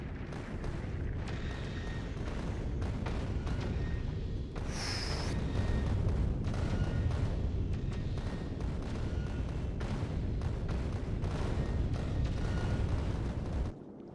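Rockets launch in the video game Factorio: Space Age, a continuous heavy rumbling roar with repeated deep thumps layered over it, loud and sustained throughout.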